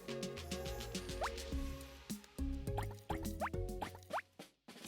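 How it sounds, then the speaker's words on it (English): Drops of food coloring fall into oil, giving several soft, close plops and rising bloops in an uneven rhythm over faint background tones. "add 4 or 5 drops of food coloring to the oil."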